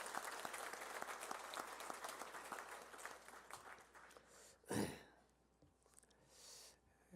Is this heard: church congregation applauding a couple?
yes